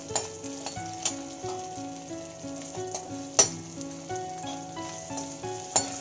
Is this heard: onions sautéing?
yes